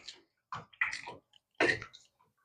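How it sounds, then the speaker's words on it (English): Carne guisada beef stew with potatoes is stirred in a pot, making a few short, wet squelching strokes separated by quiet pauses. "Give that a good stir"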